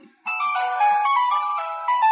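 A phone ringtone plays an incoming-call melody in an Ilocano drama scene, loud and alone after a quiet start, with a bright repeating tune that runs on.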